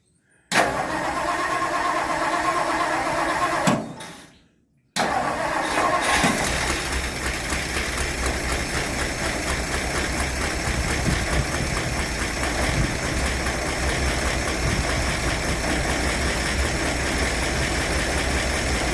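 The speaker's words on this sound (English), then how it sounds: "Okay, we're going to start the engine up." A 1960 Ford Thunderbird with a 352ci V8 cranks briefly, cuts out, then fires up and settles into a loud, steady, close idle with a rough pulsing rumble.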